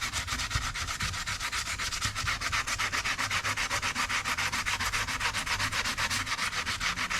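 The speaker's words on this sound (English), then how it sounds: "roll it in the ball and give it a scrub" Balled-up aluminium foil scrubbed with Coke over rusty chrome makes a steady, rapid rasping rub, loud and close, continuing without pause and with no voices.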